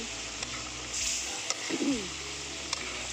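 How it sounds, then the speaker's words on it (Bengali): Beef curry sautéed in a pot on a clay stove, giving a soft steady sizzle with a few faint clinks of stirring and no talking. "তরকারিটা বসাই দিয়েছি, দেখেন আমার কষানো হয়ে যাচ্ছে।"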